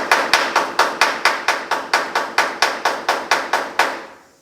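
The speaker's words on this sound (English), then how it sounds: "We're just going to tap some of this stuff down." A hammer taps down raised steel on the door jamb of a 1950 Chevy truck, about fifteen sharp metallic strikes at a quick, even pace, close and loud, with a ringing decay after the last.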